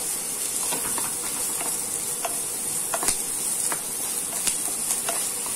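Ginger-garlic paste sizzles in a pan with sautéed onion, a steady close hiss of frying broken by occasional soft stirring clicks and scrapes, with no talk.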